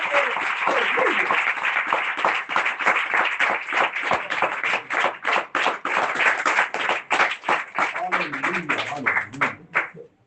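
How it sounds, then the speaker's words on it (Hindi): Loud, sustained applause from an audience at a church service, dense clapping running for about ten seconds before thinning out, with a voice briefly heard toward the end. "एक बार जोरदार तालियां"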